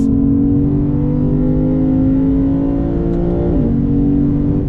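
A 2022 Lexus IS 500 F Sport Performance sedan's V8 engine pulls hard under acceleration, a loud, steady, rising roar heard close from inside the car, with a brief dip near the end like a shift.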